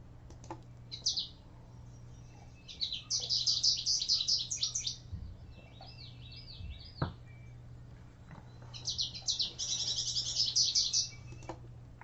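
A goldfinch in a backyard sings a warbling, variable song in bright bursts, with a long phrase, a quieter trill and a second long phrase over faint low background noise.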